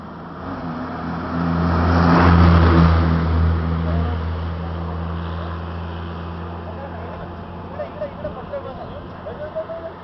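A state transport bus rumbles past nearby, its deep engine swelling loudly then fading, with people talking over it, at Raigad.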